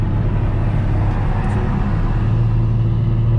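An Infiniti G37 with a transmission update drives at high speed, its engine a loud, steady low rumble heard from inside the car, with no clear gear change in this short stretch.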